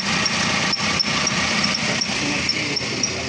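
A car engine idles steadily with the AC compressor engaged, giving a continuous whirring drone with a faint, regular ticking chirp repeating about every quarter second, close and loud.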